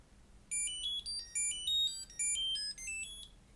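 A Nut Find 3 Bluetooth tracker plays a bright electronic melody after its button is pressed, a rapid run of clear high-pitched chime notes lasting about three seconds, close and alone.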